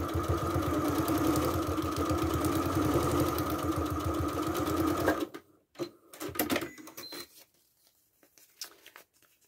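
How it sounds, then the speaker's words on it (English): A sewing machine stitches a quilt seam with a fast, steady mechanical whir for about five seconds, then stops, leaving scattered quiet handling clicks and rustles. "I'm just going to sew straight over the long stitches"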